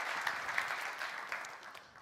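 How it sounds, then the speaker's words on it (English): An evening panel audience gives a brief, soft round of applause, steady clapping heard from a distance with no talk over it. "another welcome round of applause because he is spending his birthday with us tonight"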